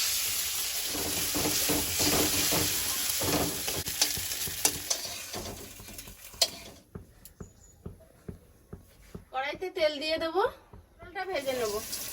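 Pointed gourd (potol) frying in oil in a pan, with a continuous close sizzle and repeated stirring taps and scrapes, followed by quieter frying while a person talks over it.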